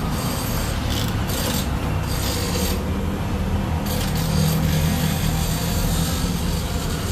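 Four engine pistons fitted with their heads, turned by hand on a bench, give a close, steady grinding rasp with scattered metallic clicks and rubbing.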